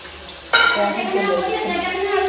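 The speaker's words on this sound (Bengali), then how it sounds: "মাংস রান্না করছে দেখা যাক এখন কেমন রান্না করে" Meat sizzles loudly as it fries in a pan, starting with a sudden hiss and continuing as a steady crackle while it is stirred, close up, with no talking.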